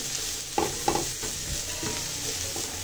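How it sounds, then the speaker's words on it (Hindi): Potato, carrot and capsicum fry in a pan with a constant sizzle. A spatula scrapes and stirs through it, with a few sharper knocks near the start. No voices. "अब इसको भी तकरीबन हम 2 से 3 मिनट हम करेंगे फ्राई।"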